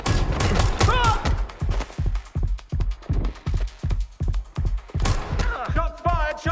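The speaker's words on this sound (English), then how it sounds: "Shots fired! Shots fired!" Rapid bursts of gunfire from the video game Watch Dogs: Legion, a steady run of loud, closely spaced shots with voices and game sounds layered over the start and end.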